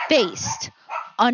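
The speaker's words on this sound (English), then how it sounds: "I apologize for my dog now." A pregnant dog barks and yips in short, sharp bursts close by, with whimpering between them, over a person talking.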